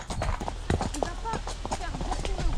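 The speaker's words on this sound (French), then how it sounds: "Grand poney. Énorme poney." A large pony's hooves clip-clop at a steady gait on the footing of a riding arena, close and rhythmic, while people talk over the hoofbeats.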